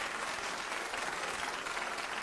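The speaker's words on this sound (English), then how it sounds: "A round of applause to them." Audience applauding finalists at an ethical investment awards event, a faint, even wash of many hands clapping together with no break, heard from some distance.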